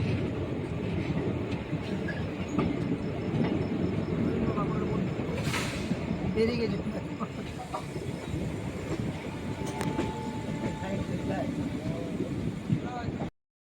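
Crowded Howrah-bound passenger train at Bankura, with a steady low rail rumble and faint clatter running throughout under the chatter of many voices nearby.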